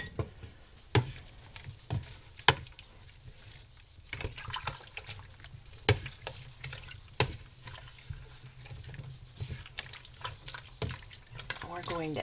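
Beef broth poured into canning jars of meat in a home kitchen, a steady liquid pour with splashing, broken by several sharp clinks of glass and utensils.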